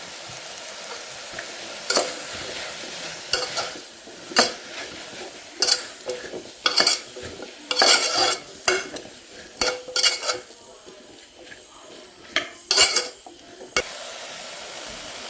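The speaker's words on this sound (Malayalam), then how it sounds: "ഇത്രയും ചേർത്ത് നന്നായിട്ടൊന്ന് വഴറ്റി കൊടുക്കാം." Turmeric and spice powders sautéing in a pan, an irregular series of loud, close scraping strokes and clinks of a spoon over a low background sizzle.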